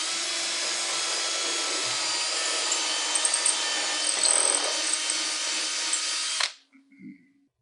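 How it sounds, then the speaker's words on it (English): A power drill pre-drills a hole for a bracket during a garage door torsion spring installation, whining steadily at close range for about six seconds, then winding down and stopping, followed by a soft clunk. "we'll line the bracket up with the mark and pre-drill the top hole."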